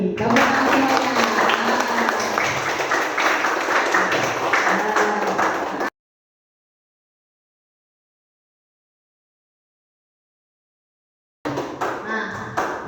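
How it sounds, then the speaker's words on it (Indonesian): A school class clapping hands together, loud dense clapping for about six seconds, then a dead-silent gap, then clapping resumes briefly near the end. "Mari kita tepuk tangan bersama untuk kinerja kelas kalian hari ini."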